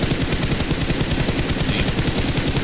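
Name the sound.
gunfire in PUBG Mobile video game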